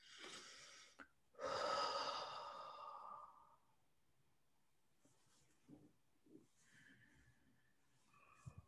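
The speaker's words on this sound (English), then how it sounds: "And then just take a deep breath and blow it out." A deep breath drawn in and then blown out slowly in a long, close, breathy exhale, followed by quieter breathing and faint soft noises.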